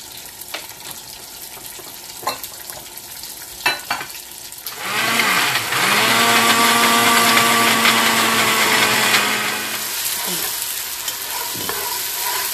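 Chicken pieces drop into a hot pot of ginger-garlic paste and start frying with a loud, steady sizzle that settles into a constant crackle after a few clattering handling sounds, then fades near the end.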